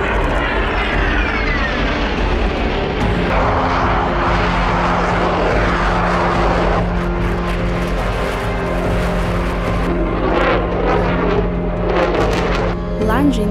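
Mitsubishi F2 attack jet, a Japanese-US built fighter, roaring loudly and steadily throughout with a broad engine drone and whine, under a spoken voice.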